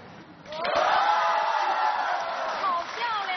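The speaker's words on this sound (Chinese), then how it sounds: "看看刚才那个热烈的欢呼声， 再来一遍" A studio audience cheers and whoops loudly for a woman walking on stage at a fashion makeover show, a sustained crowd roar that swells after a quiet start.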